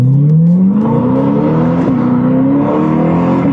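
Mid-engine V8 Chevrolet Corvette C8 with a dual-clutch transmission accelerates hard on a race track, its loud, close engine note climbing steadily in pitch through the gear without interruption, no voices over it.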